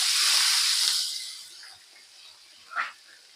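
Green chillies tipped into hot oil for tempering a guava curry: a loud, hissing sizzle that bursts up at once and then settles into a steady, quieter crackle, with a brief louder spurt near the end.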